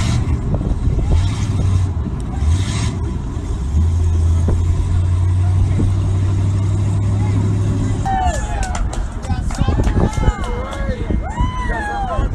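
A monster truck weighing about 11,000 pounds with a 500-horsepower engine runs and revs loudly and continuously, with excited shouting and talk over it and squealing, crunching sounds near the end.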